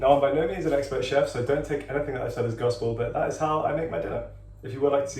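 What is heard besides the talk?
None of the usual background noises is heard.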